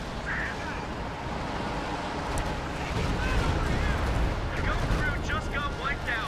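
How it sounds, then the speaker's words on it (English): Artillery shelling in the video game Company of Heroes 2, an artillery duel between US and Soviet forces and Wehrmacht OKW, heard as a dense, continuous barrage of rumbling booms and blasts that swells slightly louder midway. "I have a lot of my artillery shooting here"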